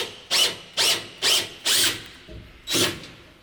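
Torx bolts are driven out of a Sprinter van bulkhead with a power tool, five short whirring bursts in a steady rhythm separated by pauses, close and moderately loud.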